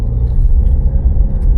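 A Range Rover with a repaired Haldex pump pulling away and driving, a loud steady low engine rumble heard from inside the cabin, with no talking.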